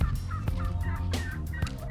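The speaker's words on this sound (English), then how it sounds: "there are 3 giant Miriam turkeys on a mission to come kick Ike's tail" Wild Merriam's turkeys gobble in the spring woods, several sharp rattling calls in quick succession, fairly close and loud with no talking.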